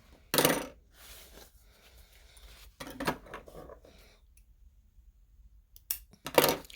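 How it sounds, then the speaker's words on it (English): Scissors snip through the short ends of fabric pieces for a messenger bag, a few crisp, separate metallic cuts close by and fairly quiet, with brief handling noises between them. "I'm going to snip both ends, both of the short ends, to mark my centers"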